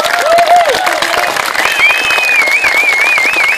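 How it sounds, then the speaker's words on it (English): Audience clapping and cheering at the close of a talk on Iowa judge retention, with loud dense applause, a few whoops and rising whistles over the crowd. "If you're still clapping"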